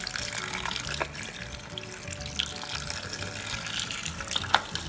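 Tap water runs continuously over a washing machine part being rinsed for an LG fully automatic machine, a steady near splashing flow with a few small knocks and clinks.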